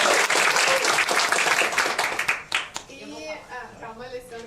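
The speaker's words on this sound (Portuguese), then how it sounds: "Uma salva de palmas a todos de novo" Applause at a national union election debate, loud dense clapping from the crowd that thins out and fades after a couple of seconds, then voices talking over the last scattered claps.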